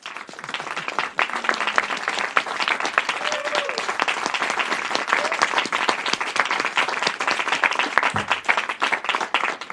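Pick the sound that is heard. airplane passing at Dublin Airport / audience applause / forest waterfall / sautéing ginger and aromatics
audience applause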